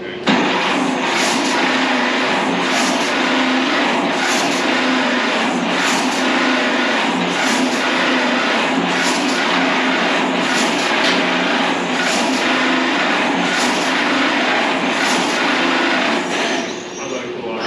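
An old tractor engine runs steadily at a tractor show, a loud, continuous mechanical drone with a regular pulsing beat that holds for the whole stretch with no talking.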